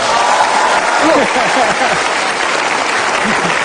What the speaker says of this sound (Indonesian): kenapa tepuk tangan riuh rendah?